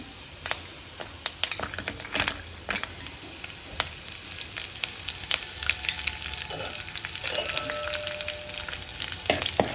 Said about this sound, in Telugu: ఇందులో జీడిపప్పు వేసుకొని వేయించుకుందాం